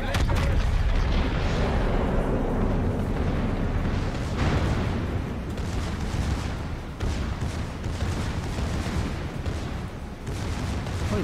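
Rumbling naval gunfire and explosions from a World of Warships battle, a dense continuous roar of booming salvos and blasts filling the whole stretch, with faint voices in the background.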